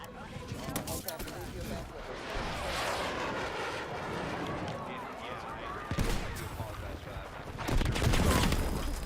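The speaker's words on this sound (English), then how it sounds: "Of course, he has a light machine gun." Light machine gun fire in the shooter game Battlefield 6, sustained bursts in a big city area, loud and dense with gunfire throughout and voice chatter on top.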